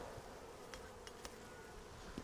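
Honeybees buzzing around a hive, a faint, steady hum with occasional sharper buzzes of individual bees passing close, no talking.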